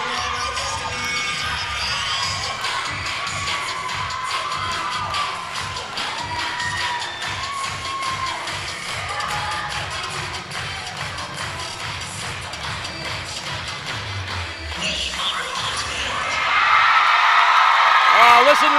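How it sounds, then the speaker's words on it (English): A crowd at a cheerleading championship cheers and shouts, a busy mix of voices and whoops under nearby commentary-like talk, swelling to a louder, brighter roar near the end. "Oh, listen to the crowd."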